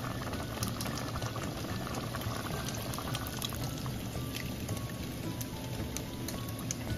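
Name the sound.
pouring water into boiling pot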